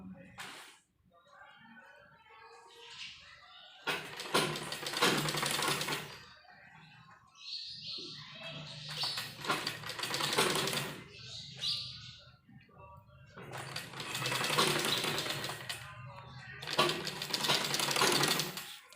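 A sewing machine stitching loops onto a sleeve runs in several separate bursts of rapid clatter, broken by short quiet pauses, up close in a quiet room.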